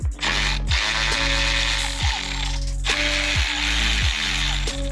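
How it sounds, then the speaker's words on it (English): A hand ratchet fitted with a T30 Torx bit loosens airbox bolts on a 2023 BMW S1000RR motorcycle, giving a close, loud series of rapid clicking pawl strokes in a regular rhythm, about six quick bursts. "this is a T30, and you just take these two bolts out"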